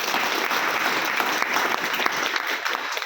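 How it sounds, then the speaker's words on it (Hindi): Dense, loud applause from an audience at an RCM business gathering fills the whole stretch, steady and continuous without letup. "मैं जोरदार तालियां चाहूंगा उनके लिए भी।"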